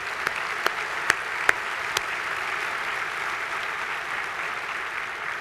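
Sustained applause from a large keynote audience honoring Puerto Rico Air National Guard members, a steady wash of many hands clapping with a few sharper individual claps standing out near the start.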